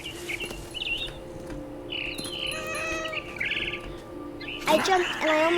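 In the video game What Remains of Edith Finch, a bird chirps in short, scattered tweets over a low steady background, with a louder burst of sound near the end.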